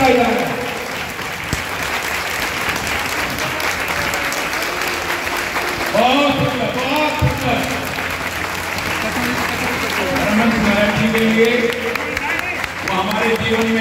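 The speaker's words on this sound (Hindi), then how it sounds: "तालियां रुकनी नहीं चाहिए जब तक के काटा जाए।" Loud, sustained clapping from a large crowd at a Hindu devotional festival celebrating a guru's appearance day, continuing throughout with bursts of cheering and voices mixed in.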